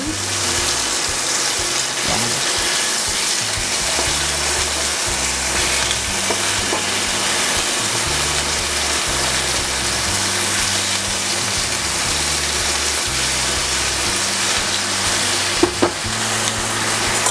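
Chicken breast for honey glazed chicken frying in a pan, a loud, continuous close sizzle with a low rumbling undertone and an occasional clink near the end, no talking.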